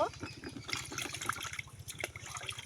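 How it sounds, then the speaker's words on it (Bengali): Tap water runs and splashes while cucumbers are washed by hand, a close, uneven gush with scattered drips and a low steady hum underneath. "এখন ধুয়ে নেব"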